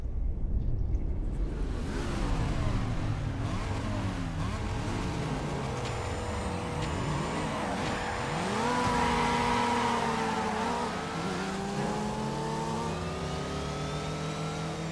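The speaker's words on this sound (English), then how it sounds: "My dinky little V8 sounds like nothing now." V8 car engine racing through Los Angeles streets in Midnight Club: Los Angeles, loud continuous revving with rising and falling gear shifts, tire squeal and passing traffic, no talk.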